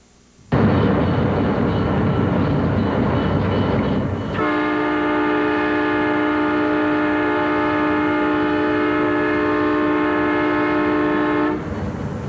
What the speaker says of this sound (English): The Lamoille Valley Railroad still creates the illusion of old-time railroad travel.